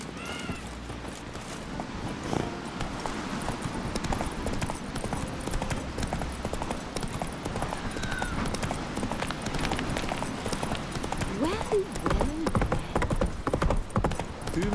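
Horse hooves clip-clop steadily over ground in The Witcher 3 video game, a continuous clattering rhythm running through the whole stretch amid game ambience.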